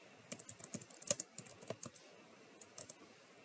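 Quiet, close computer keyboard typing comes as a quick run of light key clicks, then a pause and a few final taps.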